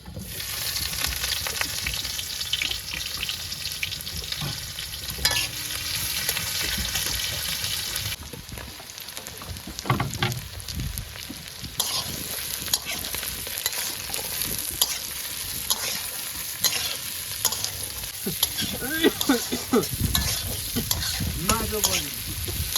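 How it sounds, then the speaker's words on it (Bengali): Onion frying in a pan for a fish curry, a continuous loud sizzle with frequent scraping stirs and clinks of a spatula against the pan, close and without talk. "মাছ ভাজা হয়ে গেছে, এবার তরকারি বসিয়ে দেবো। প্রথমে দিয়ে দিলাম পেঁয়াজ।"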